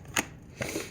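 Tarot cards being shuffled, two quick soft riffling rustles close by, faint and brief.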